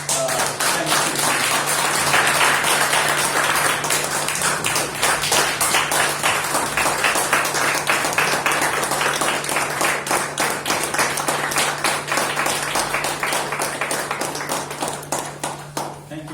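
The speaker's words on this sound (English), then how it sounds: "So to make a huge applause for" A meeting audience applauds loudly and steadily, dense clapping sustained for over fifteen seconds before slowly thinning near the end, with a faint electrical hum underneath.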